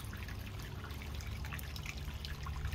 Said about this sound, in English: Dirty water dump.